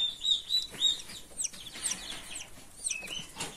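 Chicks hatching from eggs in an incubator give repeated high, thin peeps in short bursts, close and fairly clear, against a quiet background.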